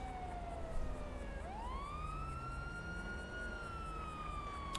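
A police siren in GTA 5 wails from a moderate distance, one long rising and falling tone sweeping down then climbing back up, steady over low rumbling background noise.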